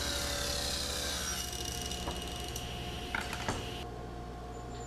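A table saw ripping strips from scrap maple, a steady loud whine with a blade-through-wood rasp and a couple of small knocks, then the pitch drops as the cut ends.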